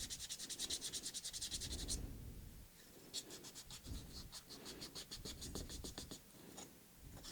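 A 3D print is sanded by hand with sandpaper that is gumming up, giving steady rhythmic back-and-forth scratchy strokes, close and fairly quiet, with no talking.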